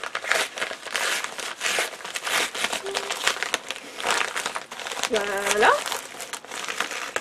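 A parcel holding a book is torn and unwrapped, with loud, repeated crinkling and rustling of packaging close by, while someone talks intermittently over it.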